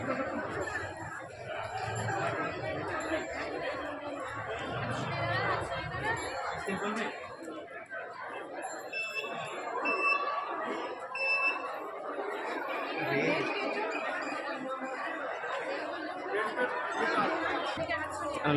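Students lined up outside a higher secondary exam centre fill the air with steady crowd chatter, many overlapping voices at close range with a few bright electronic beeps cutting through midway.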